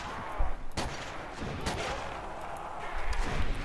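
PTRS anti-tank rifle fired in Call of Duty: World at War Nazi Zombies, a few sharp, heavy reports spaced apart over a busy game background, fairly loud and close.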